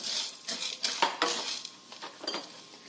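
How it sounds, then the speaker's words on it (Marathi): Toor dal, sesame seeds and spices dry-roasting in a pan over very low heat produce repeated metal scrapes and dry rattling stirs close by, with no talk. "एकदम मंद आचेवरती हे छानसं आता भाजून घ्यायचं."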